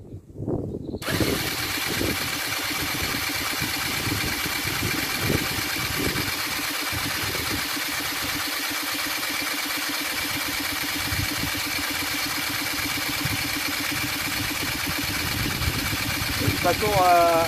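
Brush cutter two-stroke engine cranked over with the choke on and no spark plug fitted, a steady mechanical drone running continuously after a short start, with faint talk underneath.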